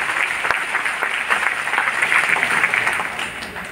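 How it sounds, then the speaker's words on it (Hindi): An audience at a Hindi poetry gathering claps loudly and steadily, a dense crowd applause that holds for a few seconds and then tapers slightly. "तो एक बार जो बाबा के बच्चे हैं जोर से तालियां बजाएं।"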